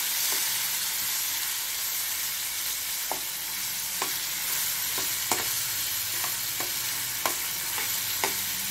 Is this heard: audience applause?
no